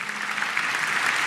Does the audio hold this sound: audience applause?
yes